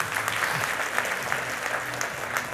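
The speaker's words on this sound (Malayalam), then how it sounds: "ഒരു കൈയടി കൊടുത്തേ അവർക്ക്" An audience at a talk by Dr. Anil Balachandran gives a short burst of dense, steady clapping that carries on evenly throughout, close and fairly loud.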